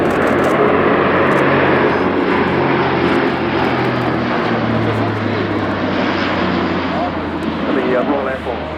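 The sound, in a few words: Airbus A400M Atlas military transport aircraft flying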